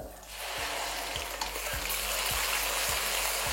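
Loud, steady sizzling of onion paste frying in hot oil, with a faint rhythmic stirring knock underneath, no voices.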